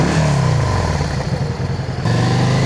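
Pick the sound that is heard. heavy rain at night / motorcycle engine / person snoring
motorcycle engine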